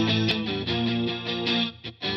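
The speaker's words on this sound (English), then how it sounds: "But these are the clean guitars. A little bit of reverb as well. No processing." Clean electric guitar chords ring out with a light wash of reverb and no other processing, steady and full, strummed in a continuous pattern.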